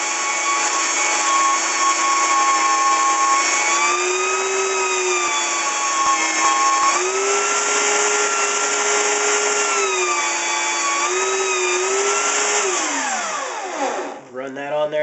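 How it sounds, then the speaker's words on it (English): An old belt sander mounted upside down with a regular power switch trues up a wooden guitar neck edge, giving a loud, steady motor whine with pitch dips as wood presses against the belt before spinning down. "we took and mounted one upside down and put a regular power switch on it, and it works really good for truing up edges"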